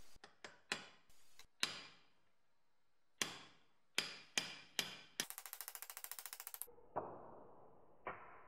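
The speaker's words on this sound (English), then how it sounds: "These three pins need forcing out with a punch and hammer." Steel punch struck with a hammer to drive three pins out of an old hand drill during restoration: a series of sharp, close metallic taps in irregular clusters, with one rapid rattling burst midway, ending in a few spaced ringing blows.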